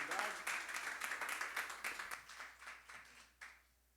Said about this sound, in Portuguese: Igreja, aplauda o Senhor Jesus Cristo.